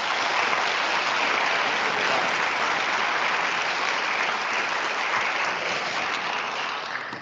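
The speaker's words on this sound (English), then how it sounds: "Let's give him a round of applause." An awards ceremony audience applauds steadily for a guest at the podium, a broad, even wash of clapping sustained throughout before tapering slightly at the end.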